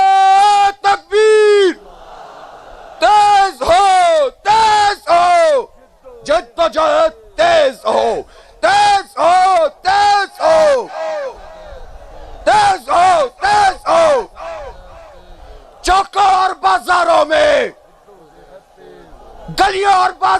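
Crowd at a protest rally shouting the slogan Nara-e-Takbeer in loud repeated bursts, a lead voice and massed reply alternating with short pauses throughout.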